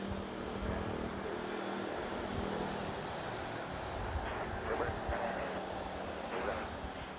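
A Qatar Airways airliner on final approach to land at Manila's NAIA airport gives a steady, moderately distant jet roar that swells slightly toward the end, set against broad outdoor ambience.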